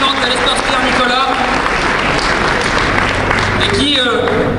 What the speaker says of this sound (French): vous pouvez encore les applaudir.